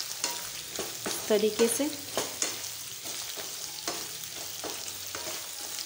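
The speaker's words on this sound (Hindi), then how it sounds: "सारी गाजर डालना है। फिर इसको हम मिलाएंगे अच्छे से," Carrots fry in a pan for a dry carrot, pea and potato dish, with a soft sizzle and several stirring scrapes early on. Someone speaks briefly.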